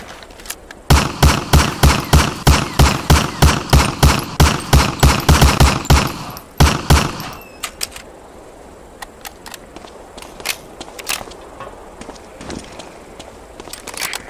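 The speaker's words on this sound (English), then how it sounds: "Shoot that target 20 times with the Thompson." A Thompson submachine gun in Medal of Honor: Allied Assault basic training fires about twenty loud, evenly spaced shots at a target, then a couple more, followed by quieter scattered clicks and distant pops.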